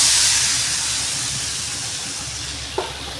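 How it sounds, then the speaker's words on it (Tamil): Ground masala poured into a pan of fried bitter gourd gives a loud, steady sizzle and hiss that slowly fades, with a small clunk near the end and no voices. "இப்போ நம்ம அரைச்சி வச்ச மசாலாவை கொட்டிக்கலாங்க."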